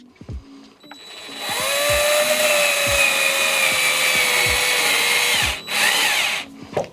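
A power drill drives a screw into a display frame, whining steadily for about four seconds with a rising then falling pitch, close and loud, framed by a few sharp clicks and knocks before and after.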